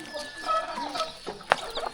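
Chickens in a rural Thai village clucking and murmuring nearby, with one sharp louder squawk midway and a rustling outdoor background, no talk.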